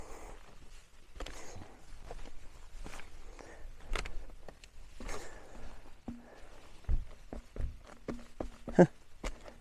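Irregular footsteps crunch and thud on firm ground in Death Valley National Park, California, close by, with a slightly hollow, knocking quality and faint outdoor rustling between steps.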